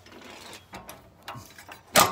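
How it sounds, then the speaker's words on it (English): A 1/2-inch ratchet turns a 7/8 Harbor Freight O2 sensor socket to loosen a car's oxygen sensor, giving a few short, sharp clicking bursts spaced apart, ending in a louder close rasp. "And with the 1/2-inch ratchet on, it takes seconds to get that sensor off."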